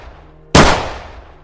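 A single loud gunshot cracks sharply partway through, close and abrupt, its report decaying over about a second against quiet background, with no talk.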